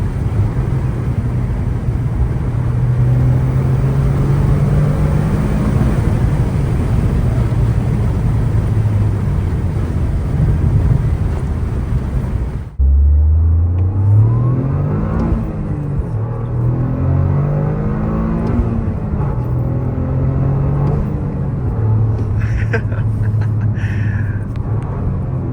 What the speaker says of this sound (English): Hopefully you can hear the turbo in the audio, but in person it's pretty loud